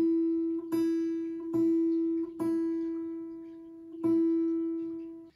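A guitar repeats one sustained pitched note in a rhythm of four short notes followed by two long notes, each attack sharp and close, ringing out between strikes.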